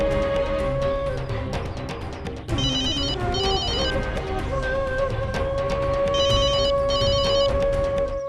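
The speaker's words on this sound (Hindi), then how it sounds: "अभी प्रभाते का फोन आया था" A telephone rings repeatedly in a steady electronic pattern, bright and clear, with a sustained tone underneath.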